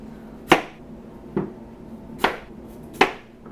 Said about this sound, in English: if you're going to cut sweet potatoes, make sure you chop out these funky looking ends here